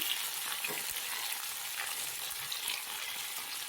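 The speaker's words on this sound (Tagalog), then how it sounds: "Habang niluluto natin yung kamatis" Tomatoes sauté in a hot pan for chicken liver adobo, a steady, close sizzle and crackle of frying with faint stirring and no voices.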